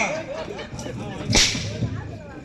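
Whip crack in a Tamil stage drama performance, a single sharp crack standing out over background stage noise and faint voices.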